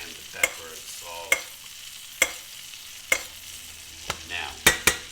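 Grass-fed ribeye steak sizzling in a pan with butter, olive oil, thyme, pepper and salt while being basted, a steady frying hiss punctuated by sharp spoon scrapes or clinks roughly every second.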